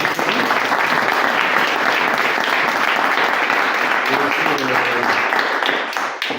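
Loud, continuous applause from a crowd at a hackathon data-visualization party, dense clapping held steadily for several seconds before tapering off at the end.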